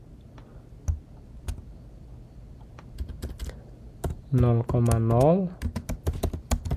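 Close, quiet clicks of someone typing on a computer keyboard come in scattered bursts, with a voice speaking briefly partway through.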